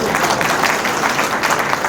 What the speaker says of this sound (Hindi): एक बार सारे लोग ताली बजाइए।